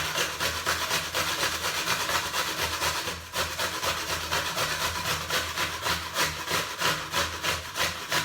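A raw beet is grated by hand, producing a loud, steady rasping rhythm of rapid back-and-forth strokes heard up close, with one brief pause near the middle.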